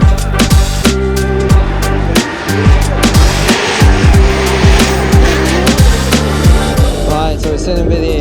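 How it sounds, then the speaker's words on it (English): Drift cars race at Formula Drift Long Beach, loud and close, with repeated engine revs rising and falling, squealing tires and sharp bangs from exhausts, all in a dense, hectic roar. "let's go back and watch some drifting"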